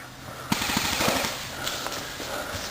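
Outdoor airsoft gun shots snap in a quick rapid burst of several clicks, followed by a few scattered single shots, fairly close against a hissy background.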